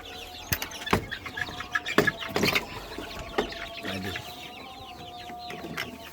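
Chickens on a small farm, including a brooding hen, cluck and squawk close by in irregular bursts, busier at first and then settling into softer scattered calls.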